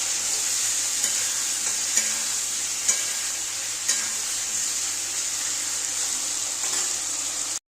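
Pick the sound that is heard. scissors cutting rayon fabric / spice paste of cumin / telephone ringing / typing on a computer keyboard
spice paste of cumin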